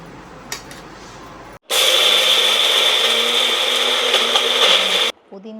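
Mixer grinder runs loud and steady for about three and a half seconds, grinding lightly sautéed coconut and mint for a chutney in a home kitchen. It starts abruptly after quiet background and cuts off sharply.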